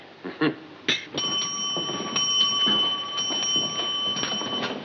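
A ship's bell strikes seven bells with a clear, sustained metallic tone, struck and left to ring on, after a couple of soft knocks.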